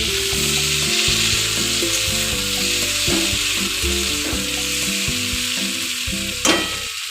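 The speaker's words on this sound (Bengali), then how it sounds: "ওই তেলের মধ্যেই আমাদের শিম, বেগুন, আলুটা ভাজাও হয়ে যাবে" Beans, eggplant and potatoes fry in oil in a covered pan over a low gas flame, making a loud, continuous sizzle close up with a brief clatter near the end. No voices are heard.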